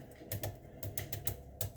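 A boiled egg's shell is tapped all around, giving a series of light, crisp clicks in an irregular rhythm, close and fairly quiet.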